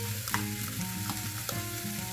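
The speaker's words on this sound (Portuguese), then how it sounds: "Então eu já refoguei aqui por 1 minutinho e vou acrescentar meia cebola" Onion and garlic sautéing in a pan with a steady, close sizzle, broken by a few sharp clinks and scrapes of a utensil stirring; no one speaks.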